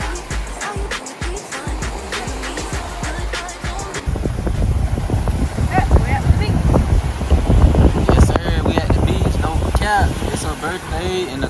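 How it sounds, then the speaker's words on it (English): Strong wind gusts buffet the microphone at a beach, a constant low roar that grows heavier partway through, while people talk over it. "It's really windy."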